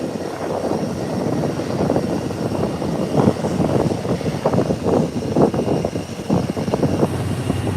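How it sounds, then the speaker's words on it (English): An airliner takes off at Howard Hamilton International Airport, its engines sending out a sustained, fairly loud roar that swells in bursts, heard from a distance with no talk over it. "There you see the takeoff there."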